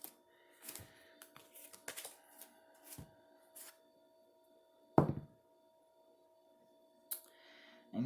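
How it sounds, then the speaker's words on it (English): Dice are rolled on a table beside a spread of cards, giving scattered light clicks and taps followed by one sharper clatter and a few softer knocks, with no talk over them. "I'm going to move some of these cards so I can roll the dice for you to see what planetary alignment you have this week."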